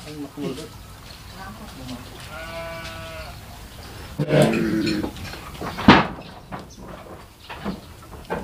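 Garut sheep bleat at a livestock sale pen, one wavering bleat standing out among nearby animal noises while people chat close by.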